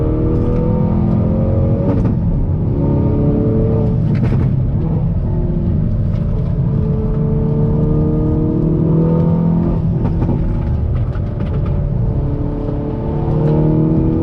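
Hyundai Veloster N hot hatch accelerating hard on throttle, its engine roaring loudly and steadily with rising harmonics and brief gear-change dips, heard from inside the car with no talking.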